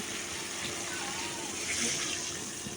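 Broth poured into a pot of tomato curry whose tomatoes have cooked down, a steady continuous splashing pour lasting the whole few seconds at moderate loudness, with no talk.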